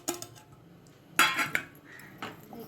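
Mango pieces get stirred into dried fish curry in a metal pot, with several clinks and scrapes of a spoon against the pot at uneven intervals, close and moderately loud, no talking.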